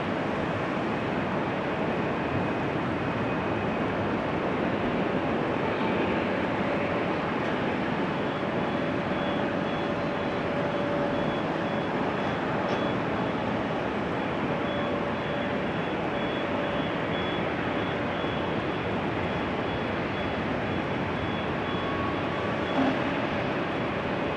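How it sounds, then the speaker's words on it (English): Aircraft land at Schiphol Airport in Amsterdam on a rainy day, heard as a faint, distant, continuous jet rumble blended with steady rain and outdoor background noise. "watch small airplanes land on a small runway relatively far away"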